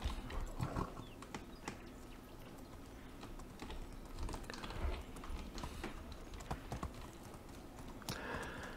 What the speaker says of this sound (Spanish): Y ahora de nuevo como un señorito montado en el caballo